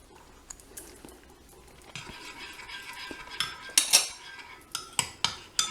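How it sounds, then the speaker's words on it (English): A metal spoon clinks and scrapes against a bowl while stirring a lemon and stem ginger chocolate mix, starting as soft scraping and building into several louder, sharp clinks near the end. "I'm just going to use the back of the spoon"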